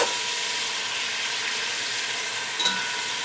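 Butter and sauces sizzling and frying in a dark pan over the flame while a roux for chicken and sausage gumbo starts, a steady close hiss with a faint stir near the end.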